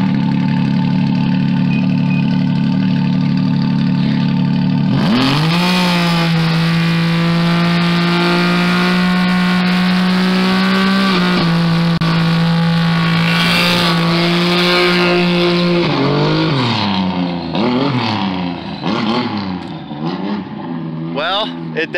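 A car does a burnout, its engine idling low before a sharp rev at about five seconds into a loud, sustained high-rpm scream with shifting harmonics, then choppy revs toward the end.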